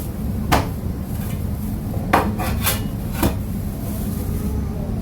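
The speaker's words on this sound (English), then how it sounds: "I am going to chop up some cabbage" Cabbage being chopped on a cutting board, a few sparse sharp knife strikes against the board spaced irregularly over steady kitchen background noise, close and moderately loud.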